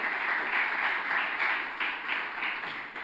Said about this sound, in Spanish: ¡Aplausos a Jesús!